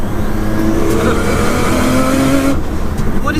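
A 700 bhp Nissan R33 Skyline engine revving loud and close, a dense, steady roar with shifting pitch and a brief change near the end.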